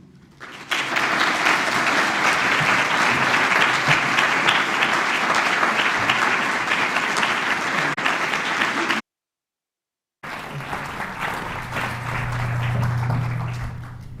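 An audience at an evening exhibition opening for British studio pottery bursts into sustained, dense applause to welcome the panel. The clapping stops abruptly, then resumes more softly while a low voice murmurs underneath.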